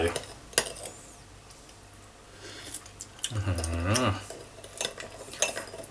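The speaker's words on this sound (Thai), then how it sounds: "ก็คนให้มัน ละลายเข้ากันก่อนนะแล้วค่อยชิม" A spoon stirs a sauce for Thai steamed lime shrimp to dissolve the sugar, with faint scraping and clinks against the bowl. A brief voice-like tone rises partway through.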